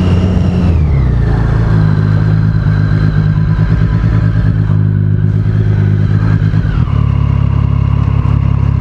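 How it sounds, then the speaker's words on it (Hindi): Motorcycle running rough on the Yamuna Expressway, a Triumph Street Triple with some fault, its engine droning loud and steady with a clattering pulse before the pitch drops near the end. "लगता है किसी की बाइक में कुछ प्रॉब्लम है"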